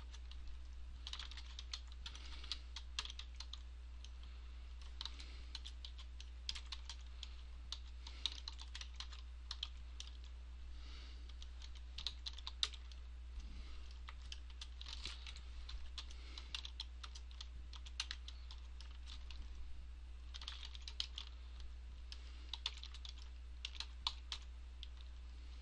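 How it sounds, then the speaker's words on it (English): Rapid typing on a computer keyboard while coding a website theme, a steady stream of light close clicks with no speech. "So we can just type that out here."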